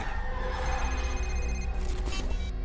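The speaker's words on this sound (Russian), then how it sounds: "Так, нам звонит кто-то." A telephone rings inside the horror video game Condemned: Criminal Origins, a repeated electronic trill over a dense, droning ambient background.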